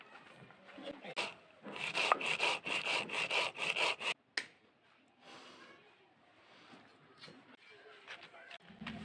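Cumin seeds ground by hand on a flat grinding stone, a rough rhythmic scraping of stone on stone in quick repeated strokes, loud and close, stopping briefly then resuming more softly.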